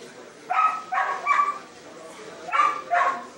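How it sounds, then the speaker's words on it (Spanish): A pair of working dogs from a Topos rescue team bark about five times, sharp and fairly close. The barks come in two short groups with a brief pause between them. "Acá vemos otros dos perros"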